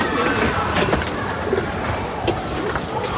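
Pigeons coo and flutter close by in a loft, soft repeated throaty coos over a busy background hum, with brief chirps and no one talking.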